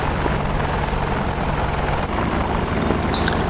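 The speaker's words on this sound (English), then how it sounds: "Matrix in an attack helicopter has landed at the airfield" An attack helicopter in the DCS flight simulator game, sitting at an airfield, gives off a steady, loud, broadband rotor and engine roar that continues without a break and with no talk.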